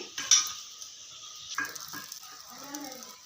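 A spoon scrapes and clinks in a pan while garlic chili chicken fry is stirred, with soft sizzling beneath a few sharper metallic knocks and brief scraping strokes.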